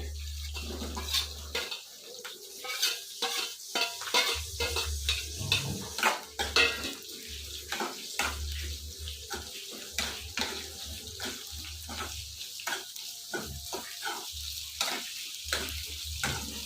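Onions frying in a pan for radish chutney, a steady sizzle punctuated by frequent stirring scrapes and clicks, close and moderately loud throughout.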